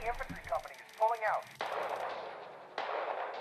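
Artillery bombardment in a radio-command strategy war game: a sharp distant blast followed by a rolling rumble, then a second explosion, after brief radio-style chatter.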